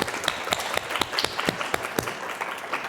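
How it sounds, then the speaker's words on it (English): A steady round of applause from an audience at a talk, many hands clapping densely and continuously, moderately close, with no voices over it. "Round of applause for her for sharing"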